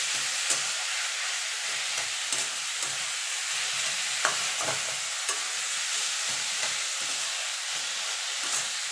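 Cauliflower mash with Kashmiri chili powder is stirred in a pan, a soft steady hiss with periodic scraping strokes of the spoon, close and moderately quiet.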